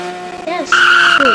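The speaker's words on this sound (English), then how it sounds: "its V6 sounds so good" A revving stock V6 sports car engine in a video game whines up in pitch and holds a high, loud tone, with a tire squeal mixed in.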